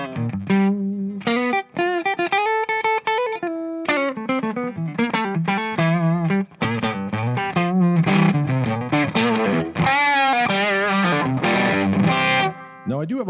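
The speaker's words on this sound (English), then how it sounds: "since it is power amp distortion, I turn down the volume of the guitar" Electric guitar with its volume rolled back into a cranked tube amp's power-amp distortion, plus a touch of delay, playing continuous slightly gritty, cleaned-up lines and chords at a strong, steady level.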